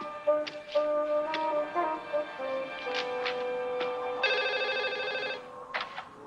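Telephone ringing in a quiet room, several bright electronic rings in short bursts, alone and fairly close.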